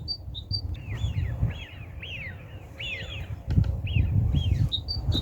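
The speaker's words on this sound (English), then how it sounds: "I don't know what they are. It might be young seagulls." Young seagulls give repeated high, rising-and-falling squealing calls in short clusters, set against rumbling background noise outdoors in snowy weather.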